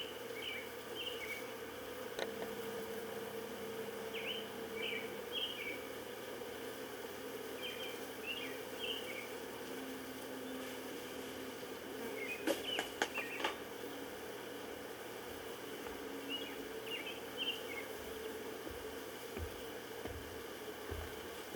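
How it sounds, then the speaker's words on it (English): Honeybees buzzing densely around an open hive during a first inspection, a steady close drone with swirling tones as individual bees pass near, brief clicks and knocks partway through. "I got bees all around me"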